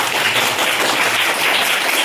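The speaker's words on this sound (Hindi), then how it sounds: "ताली बजाता है" Students clap together in a classroom, a dense, steady patter of many hands that stays loud and even for about two seconds with no talking.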